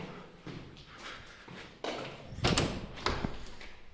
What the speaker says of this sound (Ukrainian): Тут балконні двері.